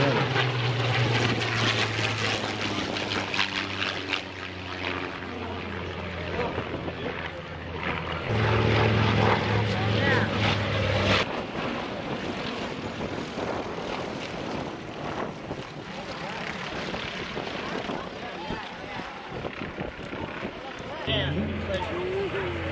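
A P-51 Mustang propeller plane drones steadily nearby at an air show, its engine hum rising and falling over the whole stretch, with indistinct voices talking underneath.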